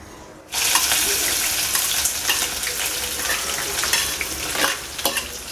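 Onion, green chili and garlic hit hot tempering oil for a Konkani mackerel curry, bursting into a loud, continuous close sizzle with occasional stirring scrapes.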